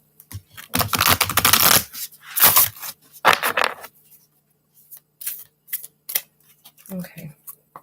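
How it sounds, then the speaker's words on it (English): Bursts of oracle card shuffling, a riffle and a few short slides and taps, close by, with quiet pauses between. "These ones are hard to shuffle."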